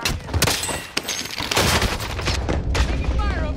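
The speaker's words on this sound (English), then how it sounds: "Taking fire over here" Rapid bursts of video-game gunfire crackle and boom in a dense, continuous fusillade of overlapping shots, loud and close, with a player's voice talking over the shooting.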